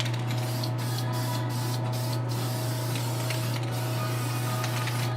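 Testors Dull Coat aerosol clear coat hissing from the can onto a painted figure, a steady, loud, continuous spray lasting throughout with a few brief dips.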